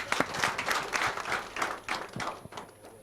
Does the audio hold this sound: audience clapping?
yes